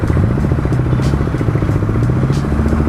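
A KTM 390 Duke single-cylinder motorcycle engine runs close by with a rapid, lumpy thrum and mechanical clatter, holding a steady idle throughout.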